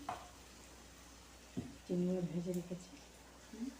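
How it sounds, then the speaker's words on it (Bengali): Ginger paste, cumin, coriander powder and grated coconut fry in a pan for a prawn malai curry, a soft sizzle and stirring heard close up under a voice that is talking. "আদা বাটা, জিরের গুঁড়ো, ধনের গুঁড়ো, নারকেল কোচানো দিয়ে মশলা ভাজছি।"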